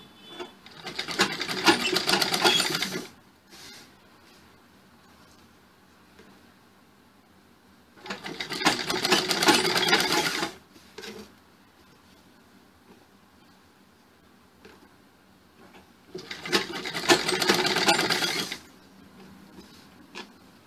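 A domestic sewing machine stitches piping onto a round blouse neckline in three separate runs of fast, even whirring, each lasting two to three seconds, with quiet pauses between them.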